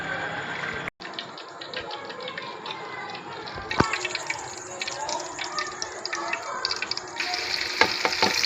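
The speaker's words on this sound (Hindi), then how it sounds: "साबुत ज़ीरा और लहसुन का लगाएंगे हम तड़का" Whole cumin seeds and garlic sizzle and crackle steadily in hot oil for tempering, a dense continuous frying hiss with a sharper burst of spattering partway through.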